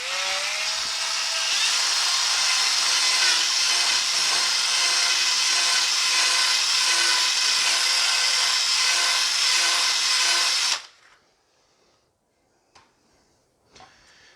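A power tool cutting into PVC pipe, a loud continuous whining buzz lasting about ten seconds before stopping abruptly, followed by a few faint knocks and handling sounds.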